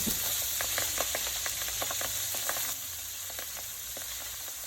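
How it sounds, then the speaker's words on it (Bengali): Pabda fish frying in oil gives a continuous hissing sizzle dotted with quick crackling pops, dropping slightly quieter partway through. "মাছগুলো ভালো করে ভেজে নামিয়ে নিলাম"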